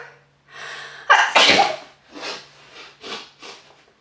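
A single loud, sharp sneeze with a short breathy intake before it, followed by a few fainter breathy bursts, close to the microphone with no talking.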